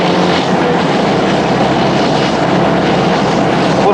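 The engine of a Citroën 2CV runs steadily at high revs, giving a loud, continuous buzzing drone heard from inside the car, with no voices.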